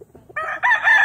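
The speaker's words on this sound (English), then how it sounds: "That's a big rooster" A close, big rooster crows loudly, its harsh call rising in two stages after a few soft clucks.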